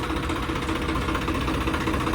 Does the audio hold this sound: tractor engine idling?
yes